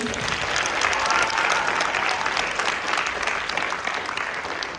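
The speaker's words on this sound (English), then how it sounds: "our dearest stage crew, please give them a round of applause" An audience at a school performance of The Importance of Being Earnest applauds the stage crew, a full, sustained round of clapping from many people that fades slightly toward the end.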